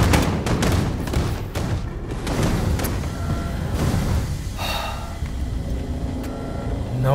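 Gunfire in the Wolfenstein II: The New Colossus video game, a dense burst of rapid, loud shots and booming impacts that continues without pause across several seconds, with no talking.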